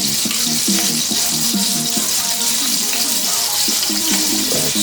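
Garlic frying in a stir-fry pot, a loud close sizzle that runs continuously with a steady hiss throughout, while a voice talks over it.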